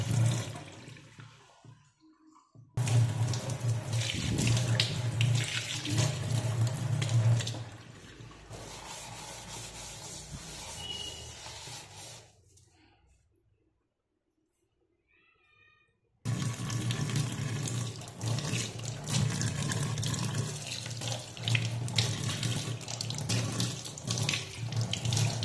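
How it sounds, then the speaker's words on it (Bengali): Tap water runs into a kitchen sink as it is rinsed, a steady loud rushing splash that stops briefly midway, leaving near silence, then resumes at full strength. "এবার পরিষ্কার জল দিয়ে ধুয়ে নেব।"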